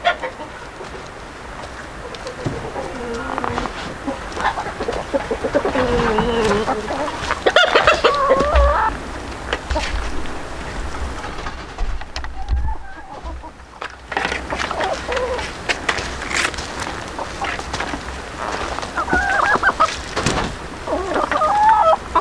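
Chickens cluck and squawk close by, in irregular bursts of chatter with occasional louder calls, over a busy outdoor background.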